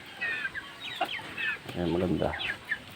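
Chickens and young chicks clucking near a coop, with repeated close, busy clucks and calls. A voice speaks briefly over them.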